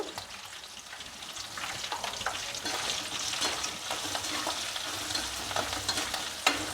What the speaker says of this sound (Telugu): ఇప్పుడు ఇందులో పసుపు వేసి కలుపుకోవాలి